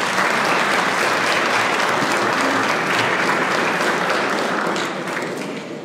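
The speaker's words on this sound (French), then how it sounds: "Je crois que des applaudissements sont mérités" Audience applauding warmly at a presentation event, loud dense clapping from a large crowd sustained throughout and tapering slightly at the end.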